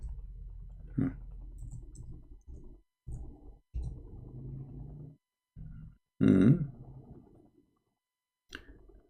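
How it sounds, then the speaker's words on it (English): Computer keyboard typing heard up close in short clusters of soft key clicks separated by gaps of silence, with a few louder thumps and a brief low vocal sound mixed in; no clear speech. "let's see if we type"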